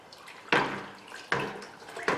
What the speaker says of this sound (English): So into the water it goes.